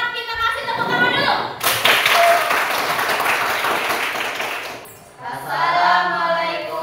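A class claps together for the first group, a dense burst of applause that starts sharply, holds steady for a few seconds and then fades, with voices speaking before and after it.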